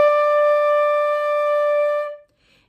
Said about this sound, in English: A traditional flute tone sounds something like this.